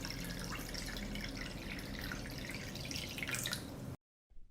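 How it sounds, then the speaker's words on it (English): Water pours into a pot in a steady hissing, splashing stream with fine droplet detail, then stops abruptly near the end, followed by a brief quiet tail. "I pour water into the pot."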